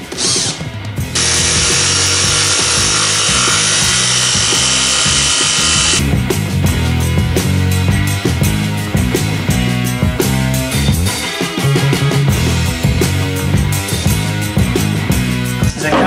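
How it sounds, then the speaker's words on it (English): A jigsaw cuts hatch openings out of a wooden kayak deck, a loud, steady buzzing saw that runs continuously with a brief higher-pitched stretch near the start and no talking. "The drill bit, just a couple side by side, big enough so I can get my jigsaw in."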